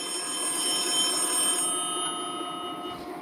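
A telephone rings with steady high electronic tones held over a continuous background hum, fairly loud and unbroken for a few seconds, with no voices.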